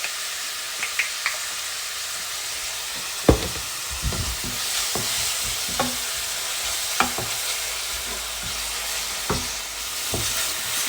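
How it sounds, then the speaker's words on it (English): Chopped onions fry in a pan for a prawn curry, a steady hiss of sizzling with occasional clacks and scrapes from a utensil stirring them. "Just stirs the onion in between so that it's cooked all the way."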